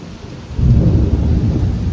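A deep rumble of thunder rolls in after a brief quiet moment, loud and close, with rain hissing underneath.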